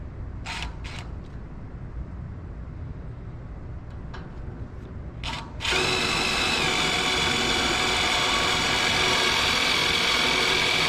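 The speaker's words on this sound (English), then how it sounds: "using a drill and a tap" A drill running a tap to cut threads in a lightweight 2JZ Pro Mod engine part: a few faint clicks and ticks, then a steady, close mechanical whir that starts abruptly and holds to the end.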